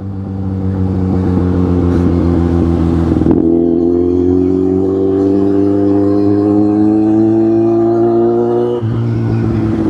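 Superbike engine droning steadily on a mountain ghat road, loud and close with a strong harmonic hum that climbs slowly in pitch, interrupted by two brief gear-shift drops.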